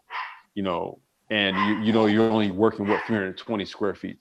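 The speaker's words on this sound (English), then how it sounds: "Sorry, that's my dog." A pet dog barks in a short burst of two or three yelps at the start, and then someone talks steadily over the remaining sound.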